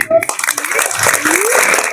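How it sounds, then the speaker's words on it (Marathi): Applause from the crowd at a Ganpati festival maha-aarti held by a youth mandal, brisk clapping that rises into a steady wash while voices talk over it. "एक नंबरच्या टाळ्या सगळ्यांच्याकडनं मोठ्या आल्या पाहिजे"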